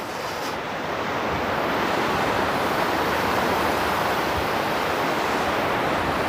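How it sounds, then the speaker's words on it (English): Waves washing ashore at Toronto's Port Lands, a continuous broad hiss of surf mixed with wind buffeting the microphone, steady and fairly loud throughout. "the sounds of the waves is really nice"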